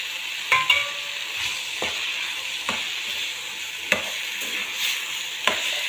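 Boiled chana mashed in a pan over a steady frying hiss, with periodic dull knocks and taps from the masher, close and without talk.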